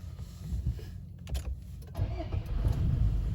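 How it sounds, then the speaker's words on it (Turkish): A Toyota Hilux Invincible pickup starts up in the dark after the brake is pressed; a brief whirring crank is followed by a low, steady engine rumble close by, with no talking. "Frene basıp motorumuzu çalıştırdık."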